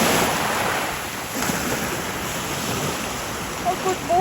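Steady ocean surf washes continuously along a beach, with a rushing wave hiss mixed with wind buffeting the microphone, loud and close throughout, without any speech.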